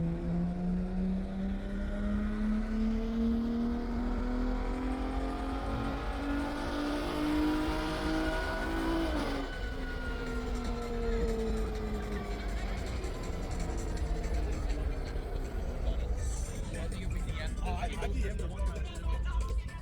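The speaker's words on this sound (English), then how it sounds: "There were quite a few cars that were running on the dyno pretty much all day long." Cars revving on a mobile dyno at a busy car show: one engine climbs steadily in pitch as it winds up hard, then drops off and revs again, loud and close with crowd noise around it for about twenty seconds.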